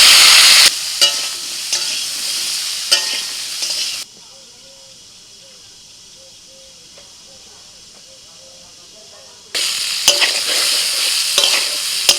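Loud sizzling and hissing of cauliflower frying in hot oil with salt and turmeric, with stirring scrapes; the frying drops away to near quiet midway, then returns strongly.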